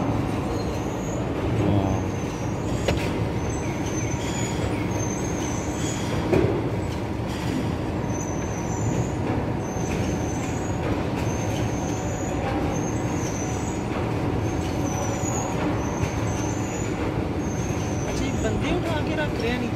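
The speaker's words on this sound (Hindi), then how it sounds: "ये पैकर पे लगी हुई गाड़ी लोड हो रही है" Steady industrial roar and clatter of a cement plant packer loading bags of cement onto a truck, continuous and loud, with intermittent high squeaks of machinery throughout.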